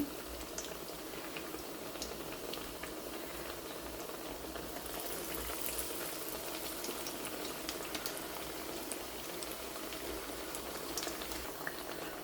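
Potato bajji frying in hot oil over medium heat, a steady soft bubbling sizzle with scattered crackles, continuous and close, no voices.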